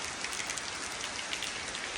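Heavy rain pours down at a Sri Lanka hideaway near a pool, a dense, even hiss of drops hitting surfaces, continuous and fairly soft.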